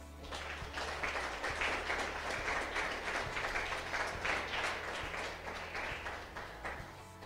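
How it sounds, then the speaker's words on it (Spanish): A church congregation claps hands for the Lord in steady, sustained applause, a dense wash of many hands filling the room with a low hum beneath. "Yo le daría palmas al Señor."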